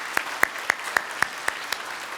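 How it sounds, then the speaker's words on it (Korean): A congregation at a Korean Sunday worship service claps to welcome newcomers: about seven sharp, evenly spaced claps in a steady rhythm, fairly close and moderately loud, with no voices. "한 번 더 우리 박수로 환영해 주시기 부탁드립니다."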